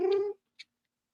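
A cat gives a short meow, followed after a pause by a brief, faint high chirp, then silence.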